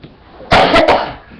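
A person coughs at a meditation workshop: one loud, close, harsh burst split into two or three quick hacks, after a quiet stretch of room tone.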